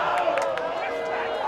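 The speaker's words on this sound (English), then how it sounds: "and the crowd loves the effort from" A crowd at a women's college soccer match, RPI against Plattsburgh State, gives a brief sustained roar of cheering under a commentator's voice.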